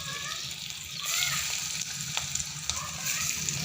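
Potatoes hit hot oil and fry with a steady, close sizzle and crackle, with a few brief stirring clinks and splutters over a dense hiss.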